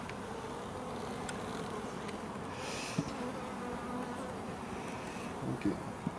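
Honey bees buzz around their hives outdoors in a steady, close, continuous drone, with a few brief knocks and no voices.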